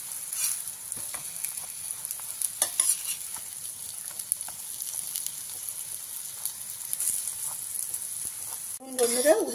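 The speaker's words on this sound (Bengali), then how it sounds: "এভাবে উল্টে পাল্টে লাল লাল করে ভেজে নেব।" Egg and wheat-flour dough pockets fry in a small amount of oil in a pan, with a steady close sizzle and scattered clicks of stirring and flipping; a brief louder scrape or voice-like sound comes near the end.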